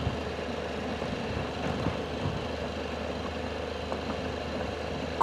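Tractor or truck engine, a low steady rumble that hums continuously beneath faint outdoor noise on a rural off-road route.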